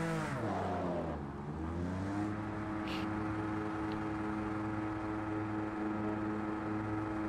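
A Corvette engine in a racing video game, revving high and droning against the rev limiter; the pitch dips briefly near the start, then climbs and holds a steady, buzzing whine at moderate volume without speech.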